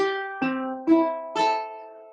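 Four plucked ukulele strings sounded one after another, each note ringing out clearly before the next, soft and close.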